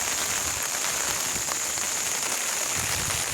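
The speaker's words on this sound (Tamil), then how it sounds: "மழை பெஞ்சிட்டே இருக்குது" Rain falling on open land in sunny weather, a steady dense patter and hiss on surfaces, even and continuous, with no voices.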